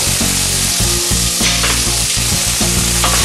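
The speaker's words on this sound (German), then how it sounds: "Olivenöl rein. Schalotten rein. Gemüse rein. Das Ganze etwas anschwitzen" Shallots and vegetables sauté in olive oil in a hot pan, a loud, steady, close sizzle with the scrape and clatter of stirring breaking through now and then.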